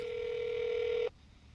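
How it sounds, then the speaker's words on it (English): A telephone handset gives a steady, loud dial-type tone for about a second while a number is being dialed, then cuts off abruptly, leaving a faint room hiss. "So I'm dialing the phone now, and we'll see what happens."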